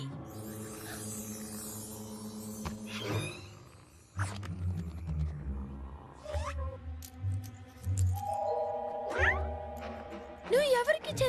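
A cartoon cat meows and yowls in a series of wavering, rising cries, mixed with other voices and background music over about eleven seconds.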